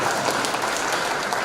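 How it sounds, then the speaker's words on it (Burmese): Steady applause fills the room at a church dinner gathering, a dense, loud wash of many hands clapping continuously throughout. "ပထွန်ကိုလက်ခုပ်သေးချမ်းကြည့်လို့ရ"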